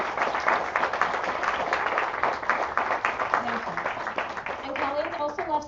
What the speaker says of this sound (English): Love to hear another big round of applause for Colleen and Parrot and Lauren.